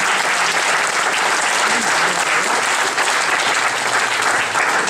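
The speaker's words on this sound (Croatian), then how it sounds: "jedan aplauz za bend" An audience at a singing competition in Petrovo Selo applauds the band with loud, dense, continuous clapping from a large crowd that stays even from start to finish.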